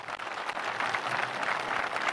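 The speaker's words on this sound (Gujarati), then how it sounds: "તાળીઓના ગડગડાટથી એને સમર્થન આપીએ" A crowd claps at a Khodaldham Trust announcement gathering in Rajkot, a dense, sustained round of applause heard at moderate distance without a break.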